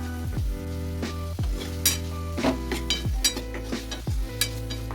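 Fried potatoes being stirred into a green pea curry in a hot pan, with a steady loud sizzle and repeated scraping strokes of a spoon against the pan, close and continuous, no talking.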